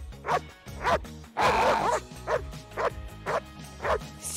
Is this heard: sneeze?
no